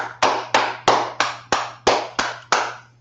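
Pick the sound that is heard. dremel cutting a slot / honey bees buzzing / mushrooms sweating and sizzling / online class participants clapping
online class participants clapping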